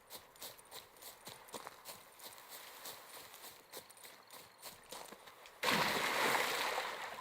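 Roach the horse's hooves in The Witcher 3 clip-clop in a steady, fairly close rhythm across several seconds, then give way to a loud, sustained watery splash and rush as the rider dives in.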